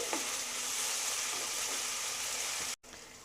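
1 tablespoon of ginger garlic paste sizzling and frying in a pan for Bengali-style aloo matar, a steady loud hiss with faint stirring scrapes, cut off abruptly near the end.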